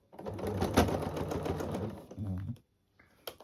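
A sewing machine stitches fabric in a fast, rattling run of needle strokes, pauses briefly, then runs a short second burst; close and fairly quiet, with a faint sound afterward.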